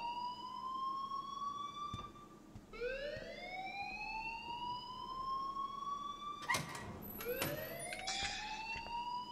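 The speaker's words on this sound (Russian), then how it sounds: "please turn off that alarm since that's your job" A rising-and-falling electronic alarm wails in the video game Life Is Strange, repeated sweeping tones layered over one another, with a few sharp clicks and a brief burst of noise partway through.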